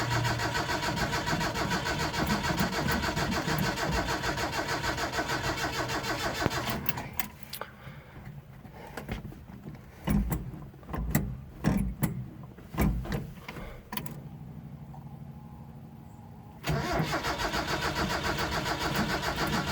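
An old engine that has sat unstarted for a long time cranks over on a reconditioned battery, a continuous churning drone with breaks, uneven bursts as it strains to catch, then resuming steady cranking.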